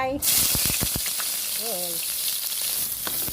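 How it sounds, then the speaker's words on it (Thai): Shallots sizzle steadily in hot oil over medium heat for a Thai stir-fried noodle dish, a loud continuous frying hiss with faint stirring knocks and a short voice near the start. "เอาน้ำมันห้อนละเทใส่"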